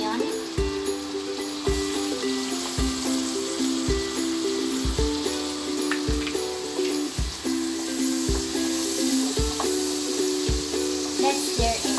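Garlic and onion sizzle steadily in a hot pan while red sauce for pasta is being cooked, with a continuous crackling fry and regular soft clicks. Music plays throughout.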